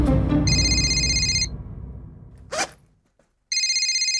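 A telephone ringing in a TV sitcom scene, two bursts of electronic ring tones separated by a short gap, loud and close, with a brief rustle in between and no speech.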